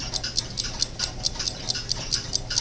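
Steady, even ticking of a repaired alarm clock fitted with three new bushings, about five ticks per second, close and clear over a faint low hum, with no voices.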